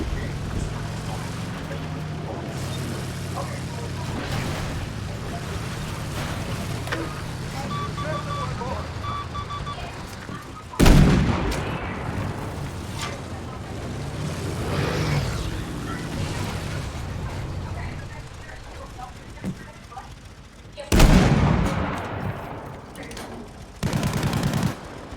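Battlefield 5 Pacific combat from inside a tank, with a constant low engine rumble and scattered machine-gun fire, plus two loud booming blasts from heavy cannon fire or explosions. Voices talk throughout.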